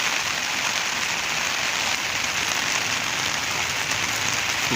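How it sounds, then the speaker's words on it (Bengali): Rain falls steadily on a rooftop, a dense, even hiss of drops that stays loud and unbroken throughout with no voices. "তো দেখুন, খুব সুন্দর বৃষ্টি হচ্ছে।"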